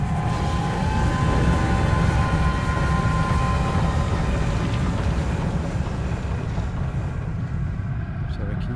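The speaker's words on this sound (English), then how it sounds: "That train." A steam-era train in the video game Alice: Madness Returns rumbles past in a Victorian London setting, a loud continuous low rumble with faint metallic whine, steady throughout and gradually thinning at the end.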